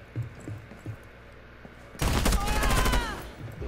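Hip-fire gunfire in a video game: quiet scattered thumps at first, then a sudden loud burst of rapid automatic shots erupting at the two-second mark and continuing to the end.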